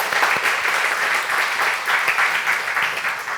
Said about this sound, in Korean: 서로 박수 쳐주십니다.